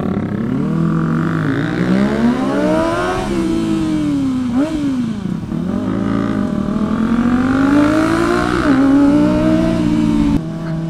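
Loud motorcycle engine close by on a leisure ride, revving hard with pitch climbing and dropping through gear changes, a sustained roar with no voices over it.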